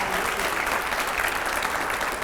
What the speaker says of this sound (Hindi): रैपिड फायर के लिए जोरदार तालियां हो जाए जरा